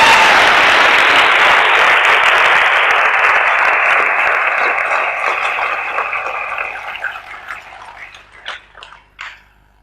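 A crowd bursts into loud, dense applause that holds steady for several seconds, then thins and fades into a few scattered claps before stopping.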